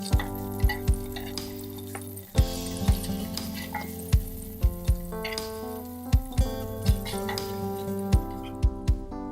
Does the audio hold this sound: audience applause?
no